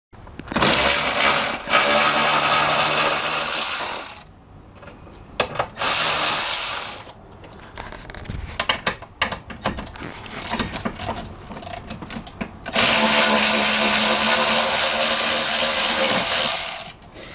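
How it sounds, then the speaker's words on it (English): A 10 mm ratchet driver backs out the seat base mounting screws during a Transit console installation, giving close, loud bursts of rapid clicking ratchet pawl in several long runs separated by short pauses. "Now, this is what we need the 10 millimeter driver for."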